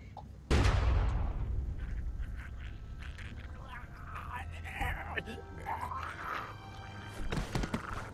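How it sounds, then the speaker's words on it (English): A single loud gunshot in The Walking Dead: Season 2 video game, a sharp blast that rings out and decays, followed by tense voices talking over a low rumble. "Why did you shoot?"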